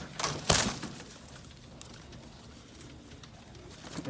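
Indian Fantail pigeons coo softly and close by, a low murmuring over quiet ambience, after a brief rustle or flap near the start.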